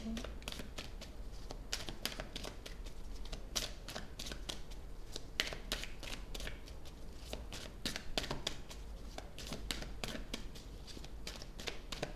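Tarot cards shuffled by hand in steady rapid riffles and slaps, close and continuous throughout with no talking.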